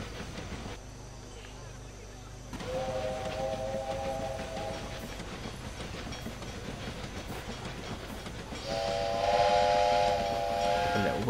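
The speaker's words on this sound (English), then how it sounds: "A little whistle, why not?" Steam-style train whistle in Railway Empire, set in Great Britain, sounding in two sustained blasts over a running train's rumble, with faint background game audio.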